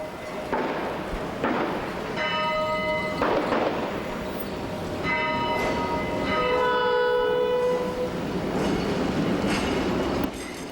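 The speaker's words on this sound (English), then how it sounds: "passengers boarded the last Flyer to be drawn by a locomotive." The last locomotive-drawn Flyer passenger train rolls past with a loud, steady rumble, wheel squeals and tonal whines rising and falling over the continuous drone.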